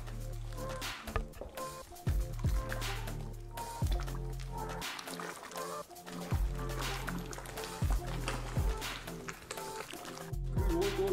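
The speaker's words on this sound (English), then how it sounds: "Now stir it slowly and steady while I have a heat here." A sulfur mixture being stirred slowly and steadily by hand, with repeated soft wet swishes and thuds in an even rhythm, close and fairly loud with a constant low background hum.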